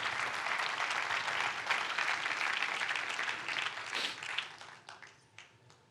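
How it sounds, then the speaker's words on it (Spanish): Loud applause from a church congregation during a sermon, dense and sustained, then tapering into scattered claps near the end. "Dele un fuerte aplauso"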